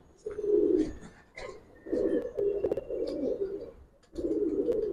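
Pigeons close by coo in repeated low, throaty bursts with short pauses between them, while someone talks quietly in the background.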